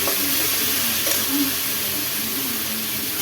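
Three large sliced onions sautéing in hot oil for paneer biryani, a steady close hissing sizzle that holds evenly throughout without pauses.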